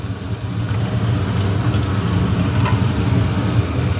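Asafoetida dropped into hot oil in a cooking pot gives a steady, close sizzle and crackle of frying that runs without pause and stays fairly loud throughout.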